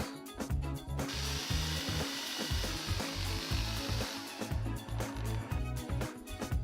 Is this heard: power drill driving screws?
yes